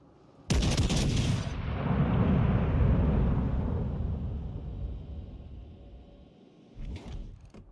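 Heavy naval guns boom in a sudden loud salvo, then a long rumbling roar rolls and fades over several seconds before a second, smaller blast near the end, from warship cannons firing shells in World of Warships Legends.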